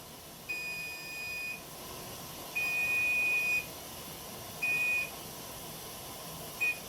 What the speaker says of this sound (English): The timer's getting ready to go off.